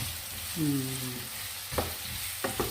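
Sautéing in a pan for sambar rice, a steady moderate sizzle broken by a few sharp scraping clicks of a spatula, with a short tonal squeak early on.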